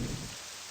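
Steady rain hisses down in a fantasy game setting, a dense, even wash of drops with a slightly heavier low rumble at the very start.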